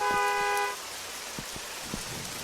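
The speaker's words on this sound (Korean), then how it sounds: "갑자기 왜 이렇게 어두워졌다가 빵빵거리기만 해?" A car horn honks in a horror video game set in a corridor-style apartment building, a short harmonic toot at the start that cuts off, followed by faint scattered thuds in a dark, quiet scene.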